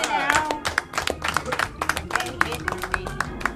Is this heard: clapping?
yes